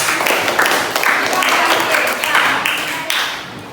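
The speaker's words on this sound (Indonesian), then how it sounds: "Boleh dong kasih tepuk tangan untuk Bapak Dina." Classroom applause for a teacher, a dense patter of many hands clapping steadily for a few seconds, then tapering off near the end.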